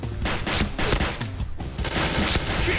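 Gunfire in a video game comes in rapid bursts of sharp shots, separated by brief pauses, loud and close.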